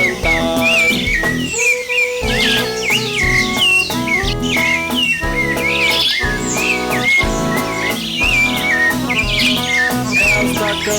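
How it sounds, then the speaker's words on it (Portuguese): A rufous-bellied thrush (sabiá) sings near and loud in a continuous run of varied, fluting whistled phrases and chirps, layered over a steady background of other sound throughout. "Enquanto o sabiá chocava, não parava de cantar."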